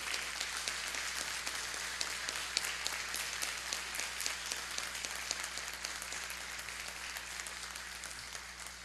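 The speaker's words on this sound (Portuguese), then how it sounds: "Peço merecidamente mais uma vez calorosa salva de palmas agora de agradecimento ao professor Edevaldo" A warm round of applause from the audience at a ceremony honouring an educational institution, with dense, steady clapping that holds at an even level for the whole stretch, with no talk over it.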